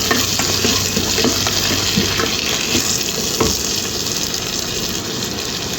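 Onions, carrot and salt being sautéed and stirred in a pan, a loud, continuous frying sizzle with scraping stirs throughout, no talking.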